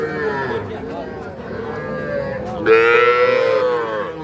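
Cattle, including small bulls and heifer calves at a livestock market, give a loud, close, drawn-out moo in the second half over a steady background of crowd chatter and bustle.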